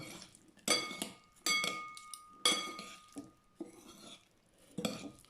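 Spoon scraping and clinking against a bowl while stirring tuna salad in oil with lime juice, several sharp close clinks in uneven bursts with quiet gaps between them, no talk.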